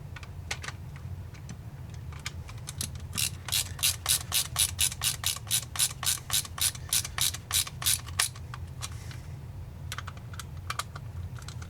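An LTT ratcheting screwdriver drives cheap screws, giving a rapid run of crisp, evenly spaced ratchet clicks that builds up and holds for several seconds, then thins to a few scattered clicks, close and with no voices.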